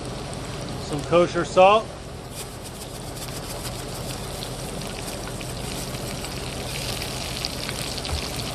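Potatoes fry in a cast iron skillet for a steak-and-eggs breakfast, giving a steady, even crackling sizzle close by that continues throughout, with a brief burst of speech near the start.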